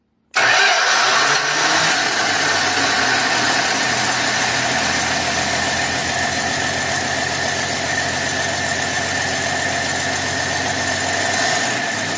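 A Dodge Dart engine cranks and fires, then keeps running steadily at about half throttle, a loud close rumble lasting for around twelve seconds without talk.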